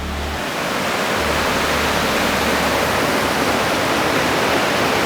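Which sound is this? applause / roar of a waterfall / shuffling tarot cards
roar of a waterfall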